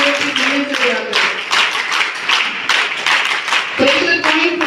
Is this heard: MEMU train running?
no